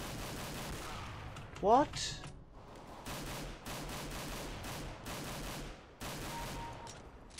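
Pistol shots ring out in the video game CS:GO, a series of sharp reports spaced through the clip alongside other game effects, with a brief voice cutting in once.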